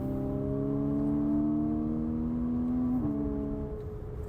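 A modified Porsche 987.2 Cayman S with PDK gearbox hums steadily at a constant drone, its pitch rising slowly before one quick, crisp gear change near the end, heard close and without talk.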